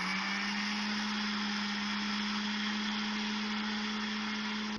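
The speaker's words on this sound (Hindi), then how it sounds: "सूजी को पहले मैं पीसूंगी। ये मैंने सूजी डाल ली है चॉपर में।" An electric chopper whirs steadily as it grinds semolina (sooji) for an eggless mango cake, a loud constant motor drone with a fixed hum that runs unbroken and cuts off at the end.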